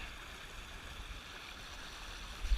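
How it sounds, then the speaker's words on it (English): A creek in a canyon flows with a steady, soft wash of water, a continuous faint rushing hiss with a brief low bump near the end, no one talking. "You can't hear good because of the creek."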